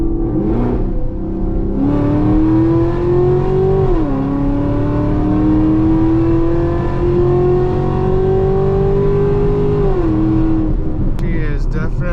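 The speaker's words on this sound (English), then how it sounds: "Let's do a 40 roll in 2nd gear." A Chevrolet Camaro ZL1 with long tube headers pulls hard in second gear from a 40 mph roll, heard from inside as a loud, deep exhaust drone whose pitch climbs steadily, dips briefly at about four seconds, then rises again before the revs drop.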